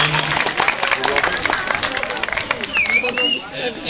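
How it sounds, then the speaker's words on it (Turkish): Crowd clapping at an outdoor neighborhood film screening in Süle Mahallesi, steady applause mixed with chatter and background voices, with a brief whistle-like tone near the end. "Büyük bir alkış alıyorum."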